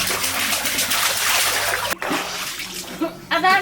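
A person plunges into a resort swimming pool in Vythiri, Wayanad, with loud splashing and churning water throughout, while voices talk and shout over it.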